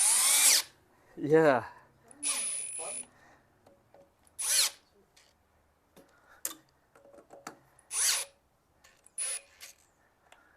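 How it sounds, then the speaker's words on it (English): A power drill whirs in several short bursts of a few seconds each, close by, separated by quiet gaps with faint clicks and a brief spoken word. "You need a drill to pull it along."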